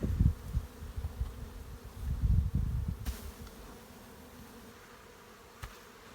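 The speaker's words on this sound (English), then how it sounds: "we're just dumping the bees in front of them" Honey bees dumped in front of a hive, a dense loud buzzing swarm that thins to a fainter hum, with a couple of brief knocks.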